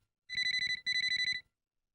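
A telephone rings in two quick electronic trilling bursts while a call is placed, clean and close with silence before and after.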